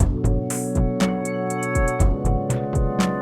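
RSI 1 vintage synth sequencer preset Cycle Gaming used as an accent percussion loop, with bright clicky hits and pitched synth tones pulsing in a bouncy repeating pattern over a sustained low bass.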